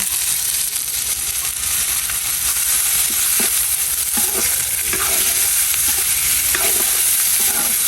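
Eggs with chopped onion and chili sizzle steadily in a pan, with a constant bright hiss. Scattered scrapes and taps of stirring sound through it, and the cooking takes place outdoors in rain.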